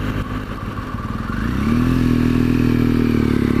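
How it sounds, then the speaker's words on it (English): A BMW GS motorcycle engine runs steadily close by, its drone rising in pitch partway through and then holding at a higher, even note, with no voices. "I don't think the engine makes a very good noise."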